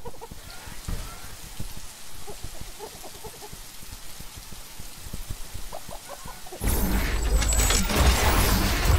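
Rain in the sci-fi video game The Riftbreaker patters as a steady hiss of drops on the ground, soft at first with faint game sounds. It swells to a denser, louder downpour near the end.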